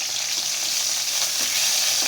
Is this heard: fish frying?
yes